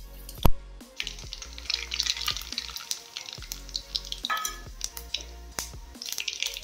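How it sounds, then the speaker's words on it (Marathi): Cumin and mustard seeds crackle and pop in hot oil, a steady, busy sizzle dotted with sharp snapping pops, up close with no talking. "जिरी मोहरी चांगली तडतडली बघा छान"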